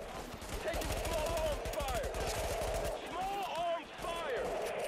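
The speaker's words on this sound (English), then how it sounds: "Oh my god, I hear gunshots." Rapid automatic gunfire in the video game The Division, sustained bursts of shots with distinct regular cracks at moderate distance, mixed with game voices and a player talking over the shooting.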